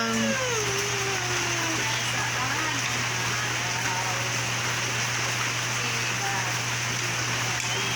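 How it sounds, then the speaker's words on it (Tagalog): Heavy rain falls in a steady, dense hiss with no letup, while faint voices murmur underneath. "Walang tigil ang ulan."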